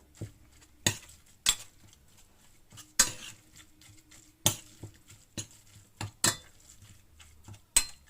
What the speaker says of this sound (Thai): คนให้เข้ากัน